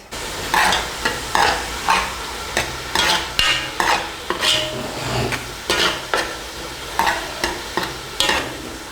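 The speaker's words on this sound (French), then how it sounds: "On va attendre au moins 5 minutes. Le temps que la tomate cuise." Tomato cooking in a pot gives off steady sizzling and frying hiss, broken by a rhythmic series of stirring scrapes about every half second. The sound is fairly close and clear, and no one speaks.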